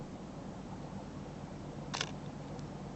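A film SLR camera's shutter fires once via remote release on a tripod, a single brief mechanical click against a quiet, steady background hiss.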